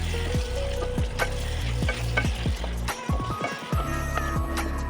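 Potato pieces fry together with onion, tomato and spices in a pan for a chicken curry, a steady close sizzle broken by repeated scrapes and stirs of a utensil against the pan.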